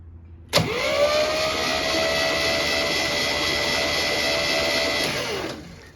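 A C3 engine turns over with a starter jump switch: a sudden start, then a steady whirring, whining crank holds for about four seconds before cutting off and fading.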